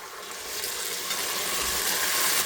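Ginger garlic paste sizzles with fried onions in a pan for a lamb intestine curry, a steady, close hiss of frying that holds loud throughout without pause.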